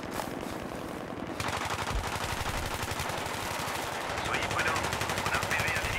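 Sustained machine-gun bursts from an engineer emptying a full magazine in the Battlefield 3 video game on Sharqui Peninsula, rapid rhythmic firing that carries on through the whole stretch, with a few voices faintly underneath.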